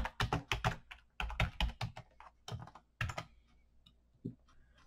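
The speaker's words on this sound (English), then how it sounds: "within the P, I will type hello world" Rapid bursts of keystrokes on a computer keyboard, close and crisp, with short pauses between runs and a lone quiet click near the end.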